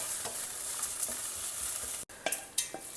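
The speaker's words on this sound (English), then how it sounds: "Just stir it in the heat of the pan" Grated coconut and amaranth greens stirred in a hot pan with the heat switched off, soft scraping and light sizzling at low level, with a brief gap followed by a few sharper spoon strokes.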